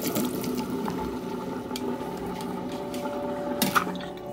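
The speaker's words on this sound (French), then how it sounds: "Je vais maintenant le rincer, bien laver." Fermented cassava being rinsed and washed in water, a continuous close splashing and sloshing with small squishy handling noises and a brief louder splash near the end, with no talking.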